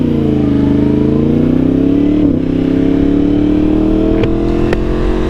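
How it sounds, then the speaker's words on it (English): A Yamaha MT10 motorcycle idling after an engine failure repair, a loud steady close-up engine drone with a slight rev dip midway and a couple of sharp clicks near the end. "Bike started up."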